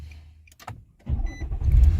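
A Nissan Maxima or Altima from 2008 to 2013 turns over and starts, a brief crank building into a loud, steady near idle after a quiet stretch with small clicks.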